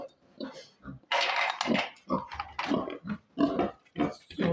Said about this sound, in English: So this is the male pig.